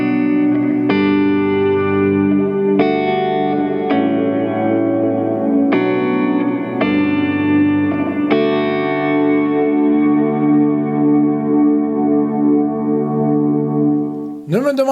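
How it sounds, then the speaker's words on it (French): Electric guitar chords played through a Walrus Audio Slö multi-texture reverb pedal ring out in a slow sequence, each strum blooming into a long, lush, shimmering reverb tail that lingers and decays, with no talking. "la SLE de Walrus Audio qui est une pédale de reverb multitexture"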